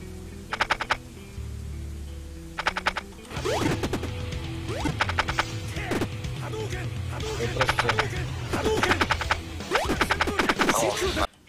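Bursts of rapid gunfire from the video game I Wanna Be the Boshy, several quick volleys of shots over a busy background of game noise and clatter.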